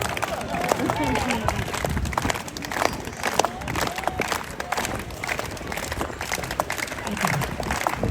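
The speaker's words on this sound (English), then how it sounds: "For each and every person who just clapped, I thank you from the bottom of my heart." Street crowd at an Edinburgh fringe festival stunt show claps steadily and loosely, a dense outdoor patter of hands with scattered cheers and crowd murmur underneath, continuous throughout.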